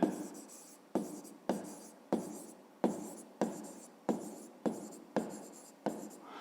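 Handwriting on paper while noting an answer to a fifth-grade maths exercise: about ten repeated scratchy pen strokes in a steady rhythm, close and fairly quiet, with no talking.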